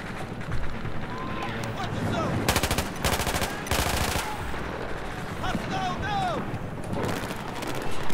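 Rapid bursts of automatic gunfire and heavier shots in a Battlefield 4 final-mission firefight, loud and repeated across the stretch, with someone talking over the shooting throughout.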